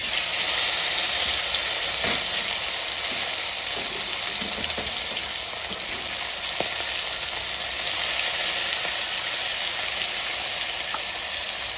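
Kokila fish frying in a pan with spices, a loud, continuous hissing sizzle that runs unbroken throughout with faint crackles and no talk.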